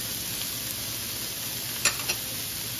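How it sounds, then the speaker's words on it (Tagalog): Steady close sizzle of garlic, onion, ginger and bagoong sautéing in a pan, a constant hiss broken by two small stirring clicks near the end. "Pagkagisa natin ang ating bawang at sibuyas at saka yung luya, pwede natin ilagay itong ating bagoong"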